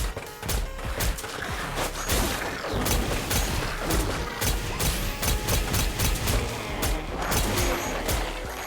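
Rapid, dense video game gunfire from hitscan bullets, a continuous crackling fusillade of sharp shots with crashing impacts throughout, loud and close with no talking.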